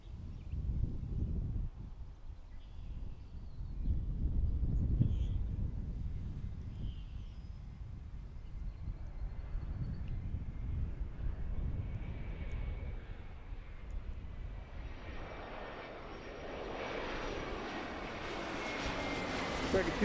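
An arriving airliner at Philadelphia International Airport, heard from Fort Mifflin, gives a low, rumbling engine drone that grows into a brighter jet whine toward the end, moderately distant and fairly quiet.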